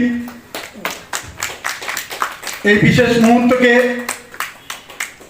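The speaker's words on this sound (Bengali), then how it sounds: "আপনারা সবাই করতালি দিন" An audience applauds at a welcoming ceremony for a block official, with scattered hand claps beneath a man's amplified speech that carries on over the clapping.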